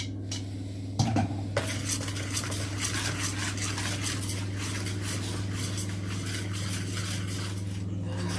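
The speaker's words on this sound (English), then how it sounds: "8 ounces of the self-raising flour, which then gets stirred into the mix" A spoon stirs self-raising flour into a cake mix in a bowl for Victoria plum slices, clinking and scraping against the bowl in a quick repeated rhythm, close and alone with no talking.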